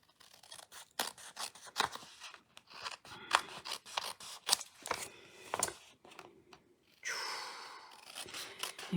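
Snips cut through a notecard in a run of sharp, close, repeated snipping and rasping clicks at an uneven rhythm, with no voice over it.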